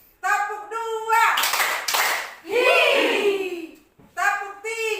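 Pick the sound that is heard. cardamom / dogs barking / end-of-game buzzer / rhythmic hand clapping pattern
rhythmic hand clapping pattern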